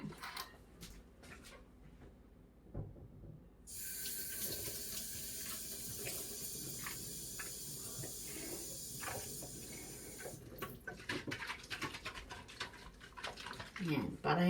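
Tap water runs steadily into a kitchen sink while pancit is being cooked at home, a hissing stream starting and stopping amid clinks of utensils and low background voices.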